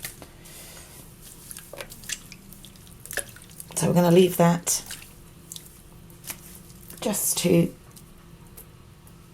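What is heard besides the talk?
wet fleece squishing in hot rinse water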